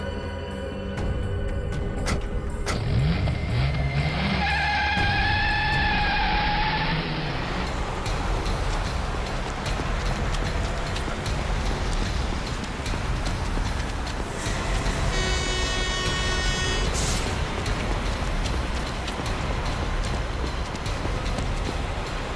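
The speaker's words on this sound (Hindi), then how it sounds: "अबे गाड़ी भगा, तेज चला।" A car speeds away with a loud, continuous roar, while sustained horn-like tones sound early on and a shrill tone cuts in about two-thirds of the way through.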